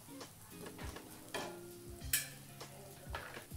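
Sprouted moong dosa roasting in oil on a hot pan, a soft steady sizzle with a few light clinks and scrapes of a spatula, close and fairly quiet, with no talk.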